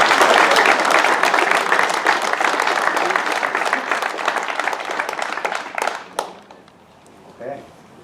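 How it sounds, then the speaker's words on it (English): A crowd claps loudly and steadily for the Upperchurch hurling team after a minor hurling final, the applause dense at first, then thinning and fading out to a few scattered claps. "one big clap then for Upperchurch for a great game"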